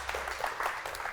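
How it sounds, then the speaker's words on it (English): Brief applause from an audience at an evening business talk, a short burst of dense clapping with no voices. "So can we have a round of applause for Tin New of Cupcake Central?"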